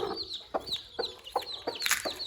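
A hen feeding her newly hatched chicks gives soft, repeated clucks, while the chicks' high peeping chirps sound close by in quick, uneven bursts.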